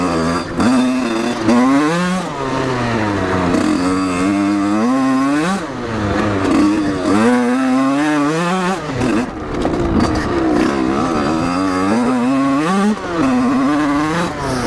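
An enduro motorcycle engine, a 1986 model, runs steadily but poorly at low revs, uneven and burbling, with rising and falling pitch throughout and no talking.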